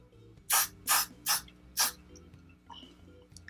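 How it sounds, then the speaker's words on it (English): Four quick hissing bursts from an aerosol hair spray can, evenly spaced and close, followed by faint rustling. "I'm gonna spray some more under there."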